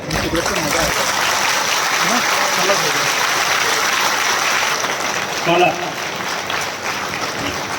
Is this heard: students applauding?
yes